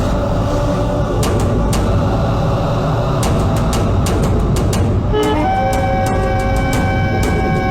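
A train rumbles along steadily with clattering and rattling, and partway through a long horn blast rises and holds over the running noise, loud and close.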